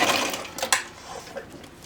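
A sewing machine stitches a fabric chapstick holder in short running bursts, close and moderately loud, with a couple of brief clicks partway through and the motor easing off toward the end.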